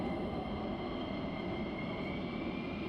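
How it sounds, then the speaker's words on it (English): Military jets taxi at RAF Lakenheath, a steady distant jet engine roar with a sustained whining hum, constant and fairly faint, with no voices. "And already we've got some more taxiing over here."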